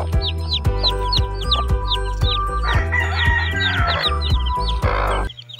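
A hen and her newly hatched chicks from a kaber and native chicken cross, the chicks peeping in a constant rapid chorus of high chirps while the hen clucks low and repeatedly nearby, with a brief rustle of feathers.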